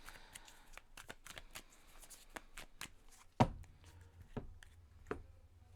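Tarot cards being shuffled by hand during a card reading, quick riffling bursts of soft papery flicks, close and quiet, followed by a slightly louder tap and a few more scattered card sounds.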